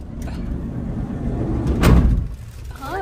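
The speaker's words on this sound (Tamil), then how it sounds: "எல்லாம் கதவு மூடி விடுங்கக்கா" A door is pulled shut with a solid thud in a home as the family gets ready to leave to pick up a new car, with household noise around it and a brief voice toward the end.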